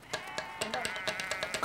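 Sheep at an all-breed herding trial give a quavering, wavering bleat that carries through most of the moment. Soft thumps and scuffs break in at irregular intervals, and the whole scene sounds fairly close.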